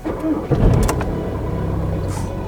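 A car engine turns over and catches, settling into a steady idle rumble up close.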